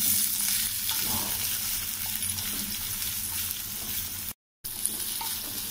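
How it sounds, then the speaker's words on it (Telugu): Boiled raw papaya pieces frying in a pan give a steady, even sizzle with soft stirring scrapes, close and moderately quiet, broken by a brief drop to silence. "వీటిని కొంచెం బాగా స్మెల్ పోయేంత వరకు వేయించుకోవాలి."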